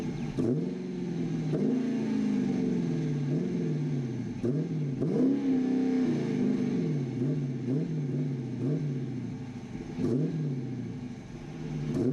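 A warmed-up car engine revs repeatedly while parked, not from a cold start. Close, steady rumbling idle with several rising and falling revs spread through the clip, and no talking.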